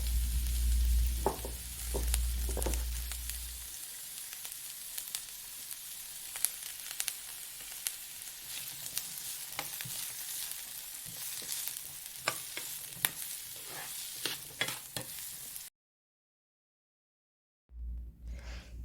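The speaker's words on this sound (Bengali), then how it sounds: "তারপরে চিকেনে ম্যারিনেশন করে সল্ট পেপার রোজমেরি দিয়ে চিকেনটাকে গ্রিল করে নিব ভালোভাবে" Chicken marinated with salt, pepper and rosemary sizzles on a grill with a steady close hiss and scattered pops, preceded by a few low thumps, then a brief silence before the sizzle returns.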